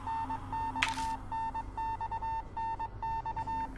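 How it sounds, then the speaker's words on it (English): Repeated short electronic beeps in an irregular on-off pattern of dots and dashes, sounding like a Morse code signal, steady and moderately clear over a low background hum, with one brief sharp click near the start. "The beeping becomes gradually louder, almost as if it's trying to tell me something."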